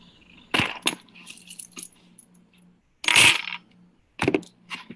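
Keys dropped during a stage reading of True West by Sam Shepard: several sharp metallic jingling clatters in separate bursts, close and fairly loud, with quiet pauses between.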